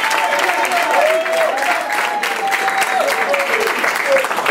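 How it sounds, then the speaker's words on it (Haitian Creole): Sustained applause from a crowd cheering the president at a Haitian public gathering: a dense, steady clatter of clapping at full volume for the whole stretch, with a voice carrying faintly over it. "n'a pas de un gros bravo au président encore avec magistrat Saint-Justin"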